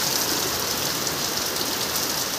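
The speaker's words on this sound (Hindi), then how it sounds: "तो अचानक से आ गया बारिश" Steady hiss of rain falls continuously, a broad even wash of sound with no voices.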